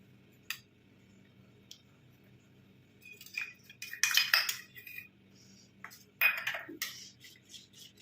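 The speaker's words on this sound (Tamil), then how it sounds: "இந்த ஸ்டார்ச்சை நல்லா மிக்ஸ் பண்ணிவிட்டு நம்ம இது கூட வந்து ஆட் பண்ணிக்கலாம்" A spoon clinking and scraping against a bowl while mixing starch into a thick face cream, scattered bursts of metallic taps and stirring in a quiet room.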